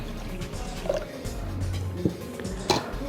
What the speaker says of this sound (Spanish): Le vamos a agregar otro poquito de agua.